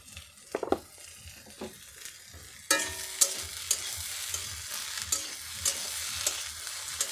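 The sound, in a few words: stirring vegetable snack filling with oil in a pan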